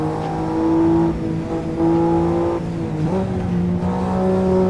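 A BMW M3 F80 engine drones steadily while driving through traffic, its low harmonic tone holding then dipping and rising again as the revs shift, close and continuous with no talk.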